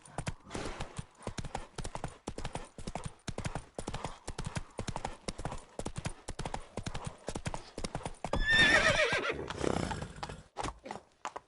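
Roach, Geralt's horse in The Witcher 3, gallops with a fast, steady clip-clop of hooves, broken near the end by a loud whinny.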